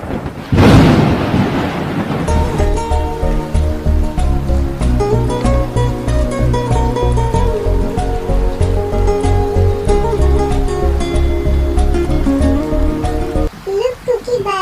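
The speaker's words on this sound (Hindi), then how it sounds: "बारिश स्टार्ट हो गई है" A sharp, loud thunderclap breaks out at the start of a rainstorm, then gives way to steady music that continues over the storm for the rest of the clip.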